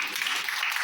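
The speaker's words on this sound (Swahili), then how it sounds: "Pigia Yesu makofi." Church congregation clapping for Jesus, a dense, continuous burst of applause from many hands filling the room, brief and fairly loud.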